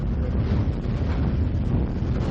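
Wind gusts across a grey, nearly empty harbour during a sailing championship race, a steady low roar and microphone buffeting with no voices.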